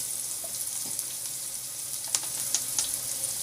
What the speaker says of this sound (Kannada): ಒಂದು ಮೀಡಿಯಮ್ ಸೈಜು ಈರುಳ್ಳಿನ ಸಣ್ಣ ಕೆಚ್ಚಿ ಅದನ್ನು ಕೂಡ ಫ್ರೈ ಮಾಡ್ಕೊಳ್ಳಿ